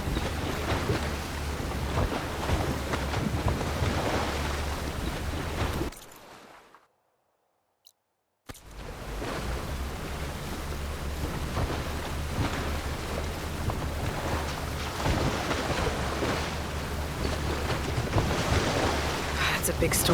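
Sailing boat moving over ocean waves in a Horizon video game, with a loud continuous rush of wind and surf that cuts to near silence for about two seconds before resuming.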